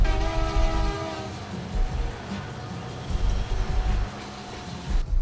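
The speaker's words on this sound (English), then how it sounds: "coal trains running alongside our highways and across the open valleys of Douglas County" A coal train rumbles past in Douglas County, its horn blaring in a long sustained blast at the start, then heavy rail cars clattering by with rhythmic thumps and the horn sounding again near the end.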